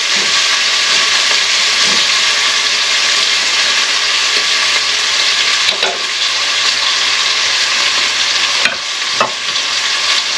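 Chicken pieces fry in a pan for Filipino sopas, giving a loud, continuous crackling sizzle with steady hiss and occasional stirring scrapes, close up and without speech.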